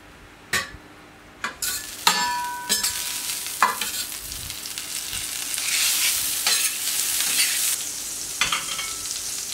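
A small knob of butter sizzles on a lightly oiled plancha heated to about 200 degrees, a steady close hiss broken by a few sharp clinks and utensil knocks early on, with no talking.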